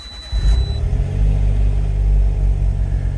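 An Autozam AZ-1 engine cold-starts with a brief cranking burst, then settles into a loud, steady low idle rumble that continues to the end.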